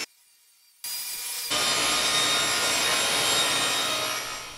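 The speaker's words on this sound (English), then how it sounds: "I am cutting it down to 3-inch wide strips" A table saw rips 3/4 inch Baltic birch plywood into 3-inch strips: a quiet start, then a loud, steady broadband cutting roar that holds close and constant to the end, with no talking.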